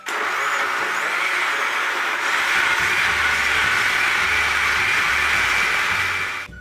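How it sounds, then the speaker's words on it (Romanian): A blender purees cooked vegetables with a little water for vegetable cream soup, whirring steadily at high speed for several seconds, a loud, even motor roar that cuts off at the end. "Legumele sunt fierte, le punem în mixer."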